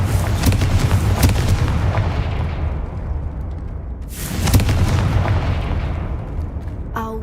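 Confringo spell explosions in the video game Hogwarts Legacy: two heavy booming blasts, the first a rumbling volley early on and the second a sharp burst about midway, each trailing off into a dull roar.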